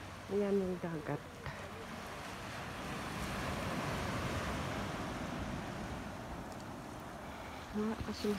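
A steady wash of ocean surf rolling under gusty wind at Horseshoe Bay Beach, Bermuda, with a person talking briefly at the start and again at the end.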